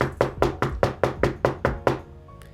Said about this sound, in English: you hear a knocking on one of the glass doors